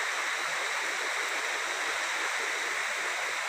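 The Huai I-To waterfall stream in Khao Phanom National Park, running fairly low, gives a steady broadband rush of flowing water, continuous and fairly close with no talking.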